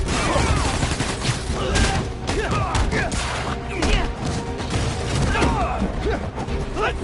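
Rapid bursts of gunfire crackle nonstop through a dense, chaotic battle in the video game Marvel's Spider-Man: Miles Morales, set during a bank robbery, with shouting voices mixed into the loud, continuous barrage.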